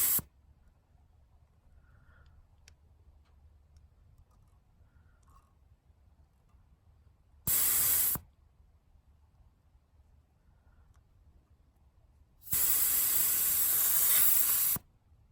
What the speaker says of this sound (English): we're listening for air to escape.